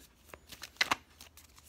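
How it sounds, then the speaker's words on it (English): Tarot cards being shuffled in a deck, giving a few soft riffling bursts with two louder close flutters in the middle, otherwise quiet. "I know when I shuffle like this, guys, it can be loud."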